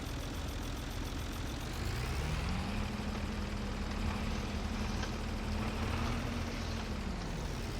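A tractor in a farming video game runs with a steady, loud, low diesel drone that holds constant, with a slight pitch rise partway through; no one speaks.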